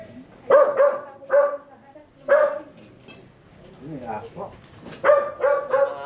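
Dogs bark repeatedly in short bursts nearby, several sharp barks with pauses between, along with some whimpering yips.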